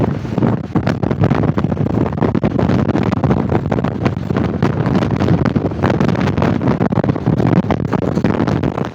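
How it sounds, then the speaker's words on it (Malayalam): Strong gusts of wind buffet the microphone outdoors near Sengottai during the windy Aadi season, making a loud, continuous rumbling roar with rapid fluttering bursts for the whole stretch. "ഭയങ്കര കാറ്റും അടിക്കുന്നുണ്ട്"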